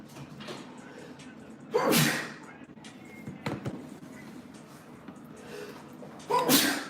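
Two sharp, loud sneezes from a nearby man burst out a few seconds apart, each a quick inhale and explosive release, with low murmuring and small background noises in between.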